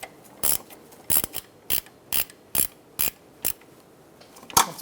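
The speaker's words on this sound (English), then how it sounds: "I'm going to go ahead and use your ratchet wrench and tighten that in." A hand ratchet wrench tightens a bolt on a drive belt tensioner of a 2002-2006 Toyota Camry 2.4L four-cylinder: eight short, crisp clicking bursts at a steady rhythm, close and fairly quiet.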